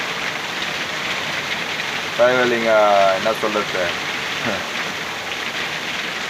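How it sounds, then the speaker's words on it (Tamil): Heavy rain falls in a steady, dense hiss around a truck driver's cab, loud and continuous from start to finish, with someone talking briefly in the middle. "அந்த மாதிரி பெய்யுது மழை"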